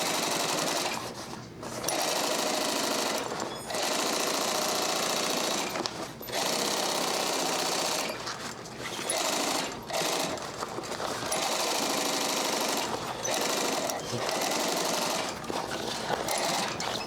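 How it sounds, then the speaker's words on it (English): Sewing machine stitching a strap attachment and binding onto the end panel of a U-zip duffle bag, running in fast steady bursts with short stops between runs, close and loud. "then we're sewing it on with the end panel, and then we're binding over it"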